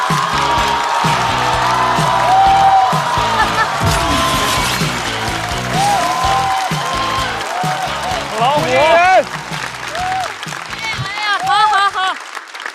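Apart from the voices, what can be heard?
audience applause welcoming a stand-up comedian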